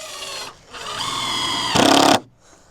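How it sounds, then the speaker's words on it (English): A power drill drives screws into a wooden compost bin in short whirring bursts, with a brief pause and then a louder final burst as the screw seats, close and loud. "I'll get these last set of screws in the top one"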